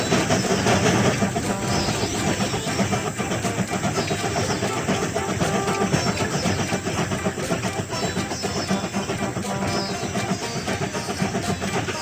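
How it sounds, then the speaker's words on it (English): Continuous loud rumble of a train getting under way and rolling along in a Baby Bus children's train driving game, a dense steady mechanical roar lasting throughout with no talk. "The train is about to start."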